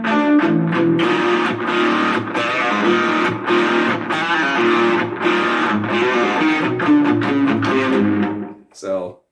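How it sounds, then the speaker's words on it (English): A heavy, distorted electric guitar playing a menacing metal riff with tritones chugs steadily and loudly for several seconds, then cuts off abruptly near the end. "And then I've got another like more metal style riff."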